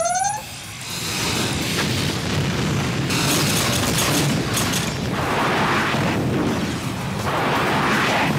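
A missile launch in an animated series: a rising whistle, then a loud, sustained roaring blast that rumbles on with repeated bursts and booms for several seconds, with no talking over it.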